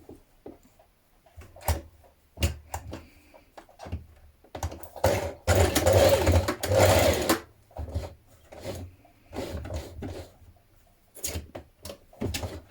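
A sewing machine topstitches a pocket facing on a dress, running in short bursts with one longer continuous stretch, mixed with soft handling clicks and thumps of fabric.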